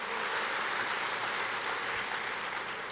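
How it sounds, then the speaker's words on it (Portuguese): A church congregation applauds together in a steady, dense wash of clapping that holds at an even level throughout, with no voices standing out. "Pode aplaudir ao Senhor, é a palavra."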